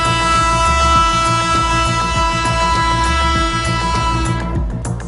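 Spanish-made Talgo train on a trial run, heard as a steady loud rumble of rolling wheels with rhythmic clatter over rail joints and a sustained tonal hum throughout, fading slightly near the end.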